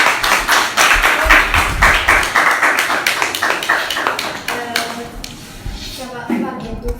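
A small audience claps in distinct, fairly close hand claps that thin out and fade over several seconds, with a voice talking faintly underneath.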